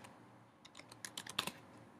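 Keystrokes on a computer keyboard entering a Terminal command on a Mac running OS X Mountain Lion, a quiet run of separate taps that speeds up into a denser burst near the end.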